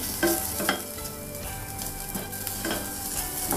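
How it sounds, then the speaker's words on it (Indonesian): Garlic and ginger stir-fry in hot oil with a steady, close sizzle, broken by a few scraping stirs of a utensil against the pan. "masukkan bawang putih dan jahe. Kita oseng-oseng sebentar saja ya"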